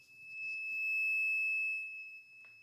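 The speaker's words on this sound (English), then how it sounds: "The buzzer indicates an empty state." A water-tank level monitor's steady high-pitched electronic buzzer tone sounds continuously for about two seconds, signalling an empty tank, moderately loud, with faint background noise.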